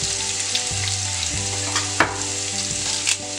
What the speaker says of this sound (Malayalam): ഇനി നമുക്ക് അതിലേക്ക് ചുവന്നുള്ളി അരിഞ്ഞത് ഇട്ട് കൊടുക്കാം